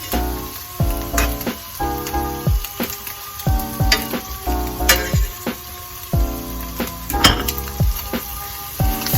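Bacon and eggs fry in a pan with a steady sizzle, broken by rhythmic stirring and the clink of utensils against the pan, close and fairly loud.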